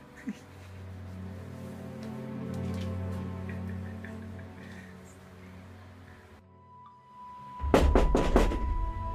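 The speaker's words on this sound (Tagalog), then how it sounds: "Sino ang kumakatok?" Several sharp knocks on a door come in a quick cluster near the end, loud and close. A quieter indoor scene with a low steady hum comes before them.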